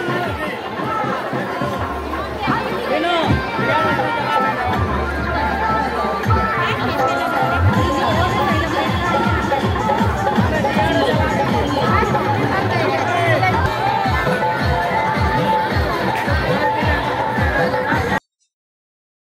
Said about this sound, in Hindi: सुबह से ही छठ पूजा के लिए घाटों पर भारी भीड़ जमा थी